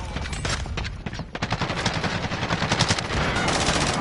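Rapid automatic gunfire in the Warzone battle royale game. Bursts and single shots rattle loud and close in a dense run, picking up in pace toward the end.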